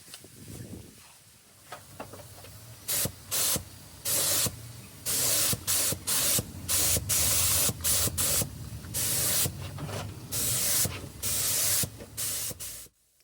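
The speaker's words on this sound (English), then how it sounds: "I'm just self-etch priming it" Self-etch primer is sprayed from an aerosol can onto the bodywork of a Datsun 510 in a series of loud, close hissing bursts, each lasting about a second, separated by short pauses.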